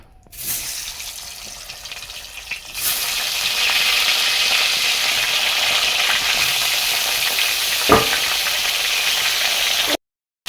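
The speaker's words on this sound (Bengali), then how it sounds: "এখন আমি এই মাছগুলো গরম তেলের মধ্যে ছেড়ে দেবো" Fish sizzle loudly in hot oil, a steady crackling hiss that starts abruptly and runs on evenly until it cuts off.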